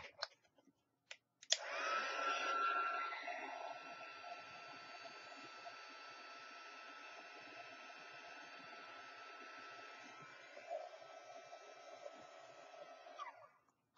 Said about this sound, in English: you can heat gun it to help spread it